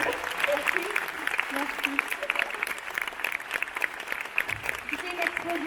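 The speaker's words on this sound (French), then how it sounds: "Et encore un tonnerre d'applaudissements, s'il vous plaît." An audience at a Lion King festival show claps steadily in sustained applause, with a brief spoken word over it.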